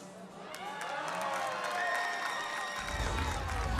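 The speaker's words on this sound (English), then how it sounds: "Both sides are cheering." Crowd cheering at an NCAA softball game between Baylor and Wisconsin, a loud, sustained roar with whoops and shouts from both sides of the stands that swells louder toward the end.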